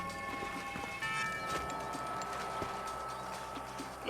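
Horse hooves clip-clop steadily at a walking pace in the Red Dead Redemption video game, close and clear over a faint game ambience with a few scattered background tones.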